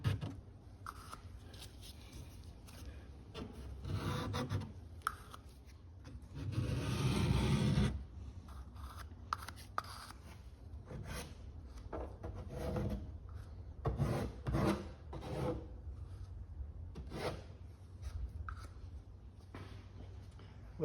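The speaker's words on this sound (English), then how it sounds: "Take one of my stir sticks and flatten it and then sharpen it" A wooden stir stick is rasped and rubbed to flatten and sharpen it into a small spatula, quiet dry scraping strokes in short bursts with one longer, louder stretch of grinding.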